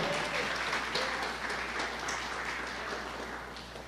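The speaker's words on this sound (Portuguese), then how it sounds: "Você pode aplaudir ao Senhor com o seu melhor?" A church congregation at Igreja de Nova Vida do Catete applauds the Lord in a steady, even wash of clapping that stays fairly faint and continuous throughout.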